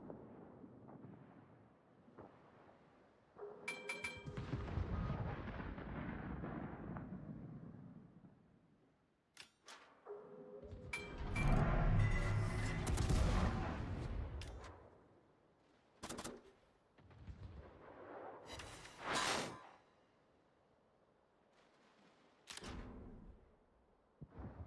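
Warship guns fire in the World of Warships game: deep booming salvos rumble and fade, followed by scattered sharp impacts and bursts, loud and close.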